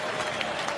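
Cricket stadium crowd at a West Indies versus World XI T20 match roaring and applauding a big hit into the second tier, a steady dense wash of cheers and clapping throughout.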